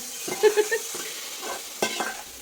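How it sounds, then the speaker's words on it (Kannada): Ghee tempering (oggarane) for payasam crackles and sizzles in a hot pan, with a cluster of sharp pops early and a few later spits, close and fairly loud. "ಒಗ್ಗರಣೆ ಹಾಕಿದ್ರು ಗೈಸ್"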